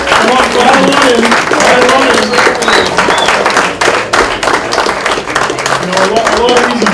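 A Memorial Day breakfast crowd applauds the cooking crew as they file out, sustained clapping and cheering filling the room at steady loudness, with voices mixed into the din.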